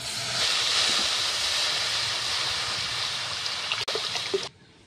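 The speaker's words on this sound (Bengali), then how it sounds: "কড়াতে আমি জল দিয়ে দিচ্ছি।" Water poured into a hot wok on a clay stove, a steady loud hissing rush that runs for several seconds and then drops away suddenly.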